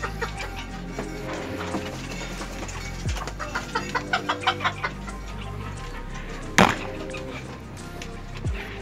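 A young rooster in a backyard coop clucks in a quick run of about eight short, evenly spaced notes near the middle, with scattered barnyard noise and a sharp knock around it.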